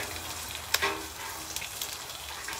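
Soft, steady sizzling of chaffle batter cooking in a hot waffle iron, with a few small crackles and pops and no talking.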